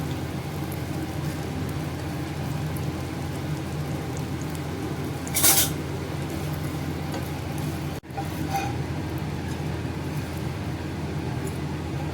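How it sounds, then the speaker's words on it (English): Small pieces of old bread roast in a little ghee in a pan, giving a faint, steady sizzle throughout, broken once by a brief scraping stir. "These are quite old, so I'll just roast them in ghee first."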